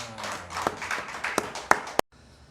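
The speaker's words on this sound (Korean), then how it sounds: "우리 하나님께 영광의 박수 올려드립니다." A congregation clapping during a Korean Sunday worship service: a dense, steady patter of many hands with a few louder claps, cut off abruptly near the end.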